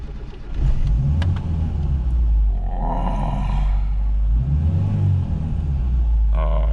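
A 1984 Ford Telstar TX5 with a 2.0 engine cranks and starts, then settles into a close, deep rumbling idle with a couple of swelling revs, while a person talks over it.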